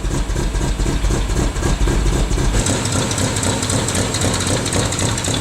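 A 1974 Triumph Spitfire engine idles close by with its choke pulled, running with a rough, uneven, lumpy rhythm, its low rumble shifting partway through.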